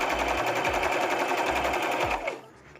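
Sewing machine stitching a chair seat cover, a loud, fast, even mechanical chatter at close range with a low thump pattern underneath, slowing and stopping near the end.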